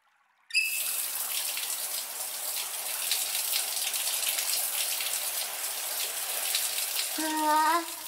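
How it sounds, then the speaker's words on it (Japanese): A shower sprays water steadily over soapy foam in an outdoor hot-spring bath, a continuous close hiss running for several seconds before tapering, with a brief tonal chime near the end. "最後に、シャワーで洗い流すね。"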